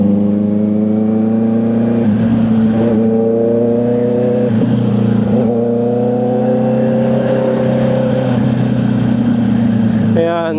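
A Honda CB650R motorcycle with E-Clutch, ridden in full manual mode, drones with a loud steady engine note that rises and falls through gear changes, close and continuous, with a voice talking over it.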